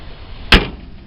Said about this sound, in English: listen to the door when you close it